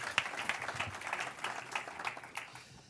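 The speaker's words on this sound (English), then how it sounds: "Can we give him a round of applause, please?" Audience applause at an energy-grid conference session, a steady spread of many hands clapping at moderate volume that tapers slightly toward the end.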